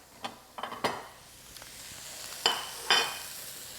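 Tuna steak searing in a hot pan gives a steady background sizzle, broken by a handful of sharp utensil clinks and scrapes close by, with no voices.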